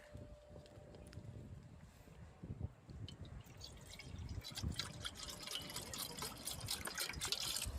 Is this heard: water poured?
yes